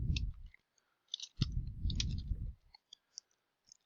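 A computer mouse clicks a few times, giving sharp, quick taps between low muffled thumps and rustling handling noise, close and fairly quiet.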